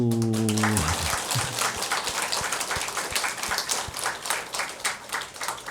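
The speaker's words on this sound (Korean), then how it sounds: "박수" Audience applause at a Buddhist Sunday dharma talk, a dense crackle of many hands clapping that rises after a brief tonal sound at the start and continues steadily throughout.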